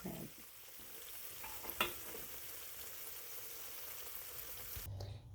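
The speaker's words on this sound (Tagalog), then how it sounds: "Lutuin na po ang ating peach and mango pie using white sliced bread." A peach and mango pie with a white sliced bread crust cooks in a pan, giving a soft, steady sizzle with a brief clatter partway through before cutting off near the end.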